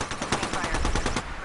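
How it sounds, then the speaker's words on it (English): Gunfire in Apex Legends: a rapid, continuous burst of automatic shots crackles loudly and evenly for over a second, trailing off slightly at the end. "Shots over here."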